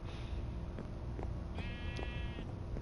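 A blocky video-game sheep from a Minecraft-style game bleats once, a short wavering cry heard close over a steady low background hum, with faint taps around it.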